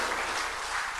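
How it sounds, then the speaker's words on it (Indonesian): A crowd applauds the minister at an official speech event in a dense, continuous wash of clapping from many hands, loud and unbroken for about a second. "Tepuk tangan sekali lagi untuk Bapak Menteri"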